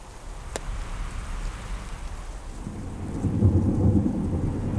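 A brief thunderstorm in a forest: a sharp crack of thunder, then rumbling that swells as rain patters steadily on the surroundings.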